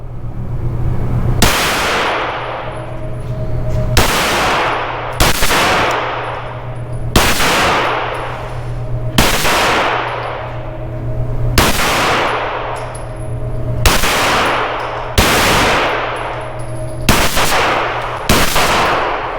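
An S&W FPC 9mm carbine fires a steady series of loud, sharp rounds outdoors, each shot ringing off a steel target with a metallic clang and brief echo, spaced about a second or two apart with no talking.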